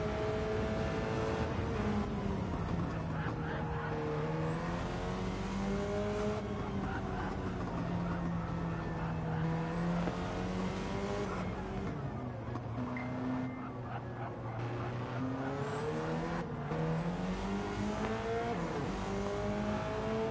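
A race car engine in Gran Turismo laps a difficult track on a qualifying run, its loud sustained note climbing and dropping through repeated gear shifts, with brief tire squeal and no talk.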